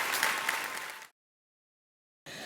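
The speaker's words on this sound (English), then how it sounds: "please give her a big round of applause" Applause from an audience at a school science and engineering fair, dense clapping for about a second before cutting to silence, then resuming briefly at the end.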